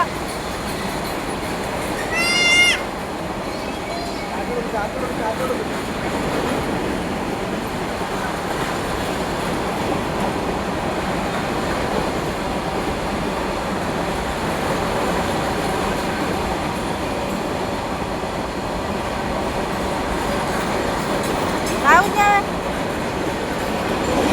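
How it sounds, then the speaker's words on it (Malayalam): A train passes through a station with a steady rolling rumble and a few brief squeals, while people talk faintly nearby. "ട്രെയിൻ വന്നുണ്ട്"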